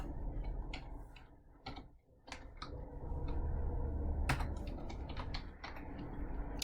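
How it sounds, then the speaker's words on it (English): Keys clatter on a computer keyboard as an answer is typed in, with irregular bursts of clicks and short pauses, close and moderately loud, and no voices. "I'm simplifying it as I'm typing it"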